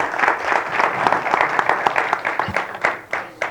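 An audience at a forage conservation conference session applauds, steady moderate clapping from a modest group that thins out into a few scattered claps near the end.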